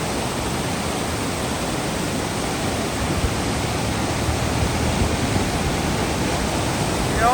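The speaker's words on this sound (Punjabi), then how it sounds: "ਹੁਣ ਤੁਸੀਂ ਦੇਖੋ ਝਰਨਾ" A mountain waterfall on the high road from Kaza to Manali roars as a dense, unbroken wash of falling water, loud and close, with no voices over it.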